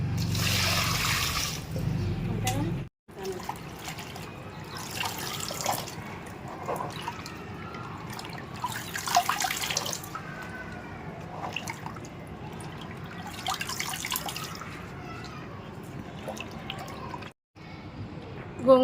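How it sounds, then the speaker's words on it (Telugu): Gongura leaves being washed under running water, with steady trickling and dripping heard close up, briefly broken by short gaps; a voice speaks faintly beneath the water. "గోంగూర అయితే శుభ్రంగా కడిగేసుకున్నాం కదండి"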